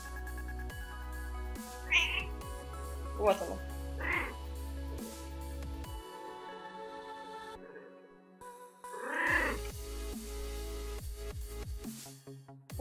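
A cat meows a few times, short nasal calls standing out over a steady low game-engine hum and tonal background, with a brief spoken remark nearby.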